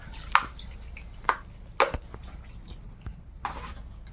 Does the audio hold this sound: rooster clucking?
no